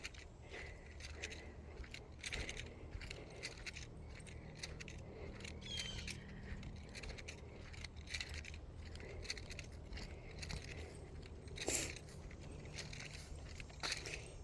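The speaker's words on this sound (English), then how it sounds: "that noise of my keys is going to drive me nuts when I'm editing this video." Keys jingle and rattle steadily throughout, close by, with small metallic clinks and one brighter jangle partway through.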